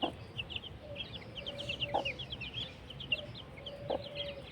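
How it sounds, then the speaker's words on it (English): Baby chicks, recently hatched under a broody hen, peep softly in rapid overlapping bursts, a faint and continuous chorus with no talking. "We have baby chickens."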